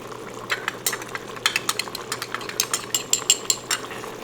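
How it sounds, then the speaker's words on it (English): Flour and water slurry being stirred into a simmering chicken sauce, giving a run of soft, irregular scraping and clicking strokes against the pot over a low background hum, fairly close and without talk. "I just got some flour and water and I'm going to mix it together"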